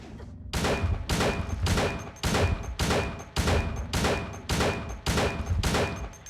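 Gunshots fired at Pyramid Head in Silent Hill 2, a steady series of about ten loud, booming single shots spaced roughly half a second apart, close and alone with no talk.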